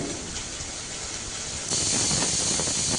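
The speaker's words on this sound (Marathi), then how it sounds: "एकीकडे आपले बघू शकता तुम्ही कुकरची शिट्टी होती आहे" A kitchen pressure cooker whistles while onions fry nearby, a steady steam hiss that suddenly swells louder and brighter partway through and keeps blowing strongly to the end, with no talking.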